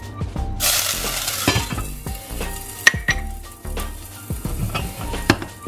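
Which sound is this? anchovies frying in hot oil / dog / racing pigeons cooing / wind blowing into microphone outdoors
anchovies frying in hot oil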